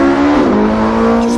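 A Porsche 918 Spyder, all-wheel drive, powers out of a tight turn in second gear, its engine note loud and close as it climbs steadily in pitch with a smooth, continuous rising drone.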